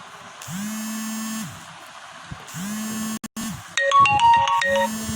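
A mobile phone ringtone for an incoming call plays alone and clearly, repeating tonal bursts with pauses between them, followed by a brighter electronic chiming melody.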